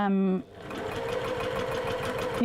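A sewing machine runs a quarter inch seam on fabric coasters, starting with a brief voice and then a steady, close, rhythmic stitching chatter that continues for about two seconds.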